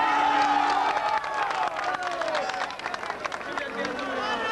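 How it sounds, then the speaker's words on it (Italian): Live pop concert crowd at an Italian show, dense applause and cheering swelling and holding throughout, with shouts and whistles over a sustained music tone. "Un bel applauso"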